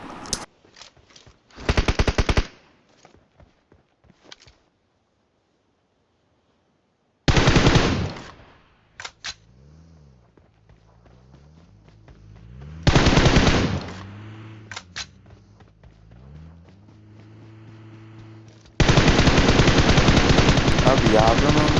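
PUBG Mobile gunfire comes in loud automatic bursts, short sharp shots early, then longer sustained rattling volleys, separated by quiet stretches with faint low in-game tones.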